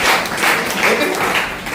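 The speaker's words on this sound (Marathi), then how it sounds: "आपण टाळ्या वाजवल्या पाहिजे" A church congregation claps together in a steady, fairly loud burst of applause lasting the whole moment, with no talk over it.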